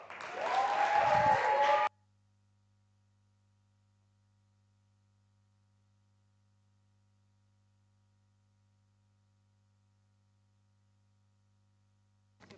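A storytelling audience at Reporter Slam Africa in Cape Town bursts into applause for under two seconds, then the room drops to near silence with a low electrical hum running underneath.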